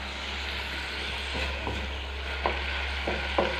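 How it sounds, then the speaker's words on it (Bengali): Ghugni spice masala fries and is stirred in a pan, giving a steady close sizzle with a low hum beneath and a few soft spoon scrapes near the end. "এই যে ঘুগনির মশলা কষা চলছে"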